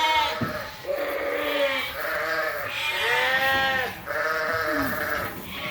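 Several sheep ewes crowd over leftover grain in a farm pen, bleating repeatedly in overlapping, wavering calls, fairly close, with little else around them.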